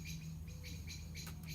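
Birds chirp on a farm in quick, bright bursts repeating through the short stretch, faint and a little distant over a low steady background hum.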